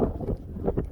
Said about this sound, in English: And it's windy. It's really windy.